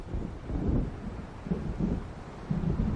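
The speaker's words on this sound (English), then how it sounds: "It seems there's a storm coming." Low, rolling thunder from an approaching storm in Alan Wake Remastered, rumbling continuously across the clip in several swelling waves with a steady windy wash and no voices.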